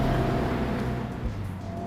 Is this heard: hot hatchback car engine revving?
yes